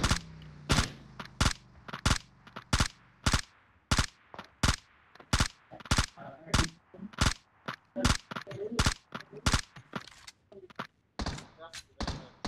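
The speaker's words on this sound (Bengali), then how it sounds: "দেখ আমার মারতেছে, দেখ আমার গুলি করছে।" Gunfire in the video game PUBG Mobile, as a long run of sharp, evenly spaced single shots at roughly two per second, punchy and close, with faint voices in the gaps.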